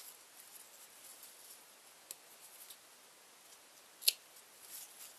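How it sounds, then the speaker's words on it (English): Scissors snip off the extra ends of a yarn bow, a few soft close clicks with one sharper cut in an otherwise quiet room. "I'm going to just take the ends and cut the extra off."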